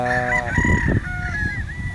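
A rooster crows nearby with a long drawn-out call while other chickens cluck in the background on a farm in Tanauan, Batangas.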